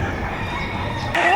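Chickens at the Padre Garcia livestock auction market in Batangas, a brief crowing and clucking mix amid crowd noise and nearby voices.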